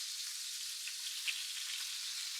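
Lamb meatballs frying in oil in a pan give a steady, soft high sizzle with faint crackles and a single small pop, no voices.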